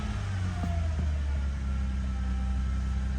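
A 2000 Toyota Avalon idles unevenly with a low, steady rumble just after a cold start. It had been sitting for almost two months, and a few brief clicks and small rises come through the idle.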